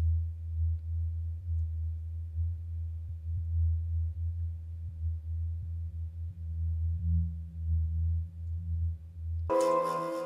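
Low bass frequencies soloed from a mids group in Ableton play as a muffled, deep rumble with steady low tones. Near the end it cuts abruptly to a brief full-range burst.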